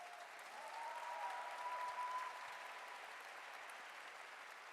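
A church audience applauds with a steady, even patter that holds at the same level from start to finish. It sounds faint and distant, with no voices over it.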